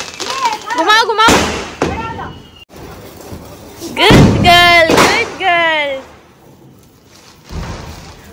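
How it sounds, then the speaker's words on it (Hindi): Several sharp firecracker bangs go off at irregular intervals during Diwali celebrations, loud and close, amid excited voices and whistling squeals. "बाकी सब पटाखे फोड़ रहे तो मज़ा आ रहे हैं"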